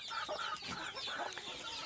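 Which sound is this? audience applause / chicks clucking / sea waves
chicks clucking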